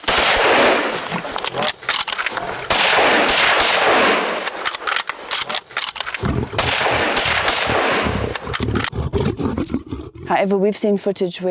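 Loud, dense bursts of gunfire and booming shots during a hunt fill the scene, with an animal roaring amid the chaos.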